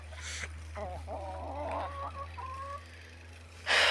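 Hen and lame-legged rooster clucking in a backyard coop, a run of close, moderately loud fowl calls through the middle with quieter low noise around them and a brief rustle at the end.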